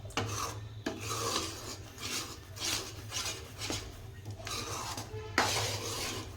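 A ladle scrapes and rasps across a pan as Mysore pak mixture is stirred over heat with oil, in continuous, gritty strokes broken by occasional sharper knocks.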